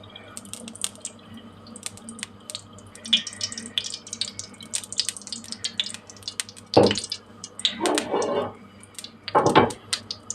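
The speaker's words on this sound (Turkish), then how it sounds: "Arkadaşlar tavamızı şimdi ısıttık. Biraz yağ döküyoruz." Cooking oil poured into a heated frying pan, with a steady low hum and scattered small clinks, then three loud sizzling bursts near the end.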